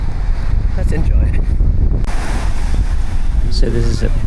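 Wind buffets the microphone at Portsea back beach while surf rolls and crashes nearby in a loud, continuous roar. A voice briefly speaks near the end.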